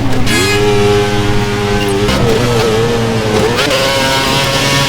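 A Formula 1 car in the F1 2011 video game at the China circuit, its loud, high engine drone shifting pitch as it slows and turns late into the pit lane across gravel, steady and close throughout.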